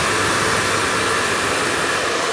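A powerful 3,200 watt hair dryer blows steadily during a mid-length blow dry, a loud, even airy roar with no break.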